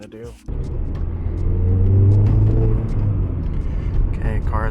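A warmed-up Toyota Matrix XRS engine runs and pulls hard, a steady loud low drone that swells as it accelerates after a brief dip at the start, with occasional voice sounds over it.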